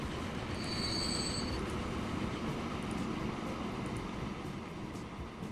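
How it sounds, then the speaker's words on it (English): A train in the Transport Fever game rolls along the rails with a steady, loud rumble and a high wheel squeal early on, continuing without a break. "Another train coming in."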